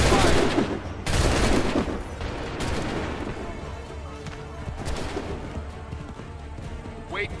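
Musket volleys crack and rumble across a battlefield in Assassin's Creed 3, loud overlapping gunfire bursts at the start, then scattered shots and booming echoes fading into a busy game soundscape.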